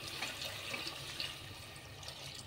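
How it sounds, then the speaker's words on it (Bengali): Water poured into a pot of vegetarian lentil dal, a steady close hiss and splash of running liquid lasting throughout, moderately quiet with no talking. "এবার দিচ্ছি জল।"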